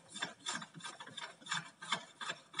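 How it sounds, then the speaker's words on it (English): A metal tube being threaded onto a УИМ-21 measuring microscope, giving about eight close, evenly spaced rasping scrapes as it turns, with no talking. "I need this tube, which threads on here"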